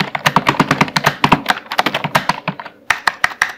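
Rapid typing on a computer keyboard while entering Bangla text in Microsoft Word, crisp close key clicks in quick irregular bursts with a brief pause near the end.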